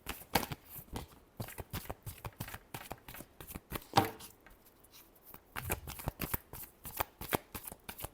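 A deck of tarot cards being shuffled during a Libra weekly reading, with a steady run of quick, crisp riffling flutters up close and one sharper card snap midway, all alone with no talk.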